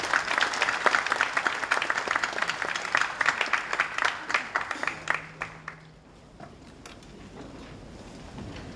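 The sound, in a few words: audience applause welcoming the speaker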